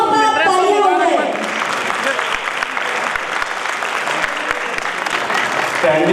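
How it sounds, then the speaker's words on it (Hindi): Audience clapping loudly in a tribute to Lata Mangeshkar, a dense steady applause filling the hall, with a voice speaking over the first second. "तो एक बार उस महान हस्ती की लता जी के लिए जोरदार तालियां हो जाए"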